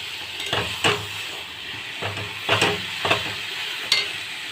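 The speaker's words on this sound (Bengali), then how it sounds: "লাল শাক ভাজা" Red amaranth greens frying in a pan with a constant soft sizzle, punctuated by several sharp scraping stirs of a spatula, close up and without talk.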